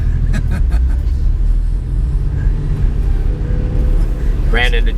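Heard from inside the cabin, the engine of a Viola Blue 1991 Porsche 911 Carrera 4 (964), a rest-of-world import, gives a steady low rumble. People talk over it.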